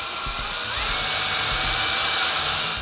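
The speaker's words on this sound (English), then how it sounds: "I do recommend having a drill or a nice driver for this step" A power drill whirs loudly and close, its high motor whine rising slightly as it drives a screw into a shock tower on a Team C TS2 short course RC truck.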